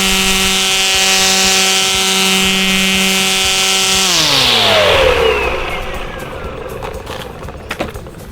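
EGO 56V Power Load battery line trimmer, 38 cm, running loud and close with a steady high whine, then spinning down with falling pitch and fading to a quiet rattle.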